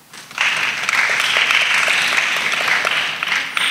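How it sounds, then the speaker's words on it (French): Loud, dense applause from a church congregation at a service with children, rising sharply after a quiet start and holding steady for about three seconds. "Acclamez très fort."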